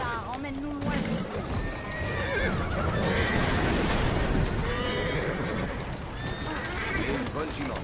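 A horse neighs and whinnies in the video game Assassin's Creed Syndicate, with hoof clip-clops and street ambience beneath, while voices talk over it.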